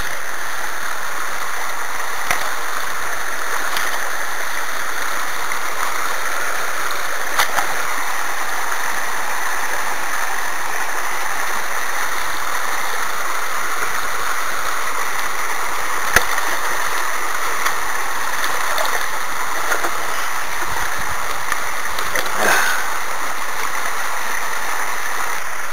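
Water and gravel pour steadily through a hand-dredge gravity trap gold concentrator, a continuous close rushing and gurgling flow with occasional small knocks, no voices.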